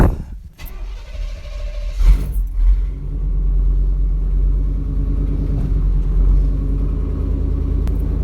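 A Chevrolet K30 Suburban truck engine cranks briefly, catches with a loud burst, and settles into a deep, steady, rumbling idle close by.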